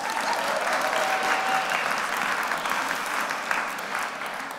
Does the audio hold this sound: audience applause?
yes